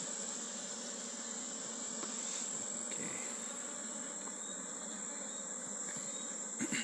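Honey bees hum steadily during a beehive inspection in Jamaica, a dense continuous buzz of many insects close by, with a few faint knocks near the end.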